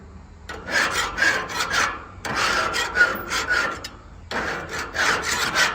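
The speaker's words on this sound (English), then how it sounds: "the scraper actually seems to be getting in between the grating very well" Plastic BBQ Daddy grill scraper rasping back and forth across a metal grill grate in three close, loud bursts of rhythmic scrubbing strokes separated by brief pauses.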